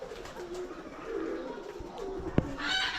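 Pigeons coo softly at a pigeon farm, low murmuring calls under faint background noise, with one sharp click and a brief higher sound near the end.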